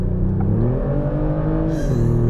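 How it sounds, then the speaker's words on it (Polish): Synthetic engine sound from the speakers of a Kia Stinger GT V6 in sport mode, a smooth humming drone that rises gently in pitch as the car accelerates, heard from inside the cabin. "To, co słyszycie, to jest dźwięk generowany z głośników."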